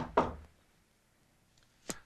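A single sharp knock on a door lands right at the start, and a second faint knock follows near the end with quiet in between. No one speaks.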